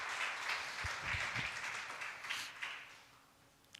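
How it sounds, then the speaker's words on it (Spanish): A church congregation breaks into applause, a dense fairly quiet wash of clapping that swells and then thins out toward the end, with a few low thumps mixed in. "Dale un aplauso al Señor"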